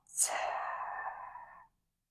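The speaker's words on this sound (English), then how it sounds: "One more big breath in and slow breath out." A single slow, steady exhale during a yoga stretching class, starting with a soft breathy rush and tapering off evenly over about a second and a half, close to the microphone and alone.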